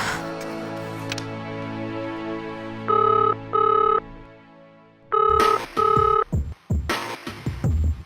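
A telephone rings in repeated pairs of bright electronic trills, clear and close, over a low sustained hum.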